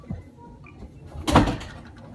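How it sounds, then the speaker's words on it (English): A bedroom door is pushed shut indoors, a single soft thud with a brief rattle partway through, preceded by faint rustling and movement nearby with no talking. "I'm gonna go shut my door real quick."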